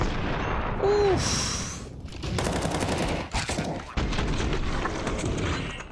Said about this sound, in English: But then that one bullet whizzes by.